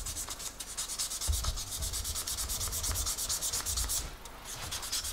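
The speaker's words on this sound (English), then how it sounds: "We're polishing it for aesthetic only." Rhythmic back-and-forth rubbing as a guitar part is hand-polished, a steady hissing scrub repeating at an even quick pace, close and fairly loud, with no talk.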